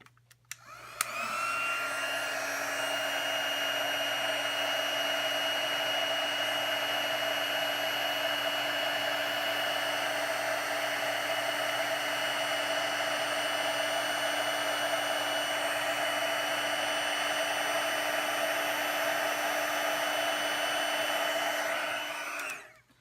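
A handheld heat tool blows hot air over heat and stick powder on a stamped craft card, a steady, close fan roar that starts abruptly, holds evenly for about twenty seconds, then cuts off.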